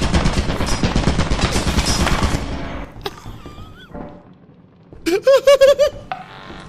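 Turret gunfire in a video game, a dense burst of rapid shots for about three seconds, then scattered game effects and a short run of loud chirping electronic pulses, with excited players talking over it.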